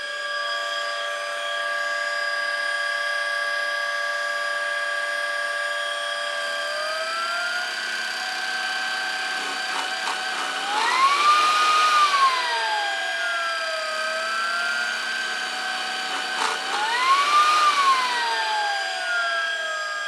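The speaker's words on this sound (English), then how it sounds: "The vacuum cleaner also has an automatic mode that reacts to the power consumption of the main brush motor." A Buture VC90 vacuum cleaner runs in automatic mode, a steady tonal motor whine that rises in pitch twice as the brush motor load changes, then settles back, close and continuous with no talk.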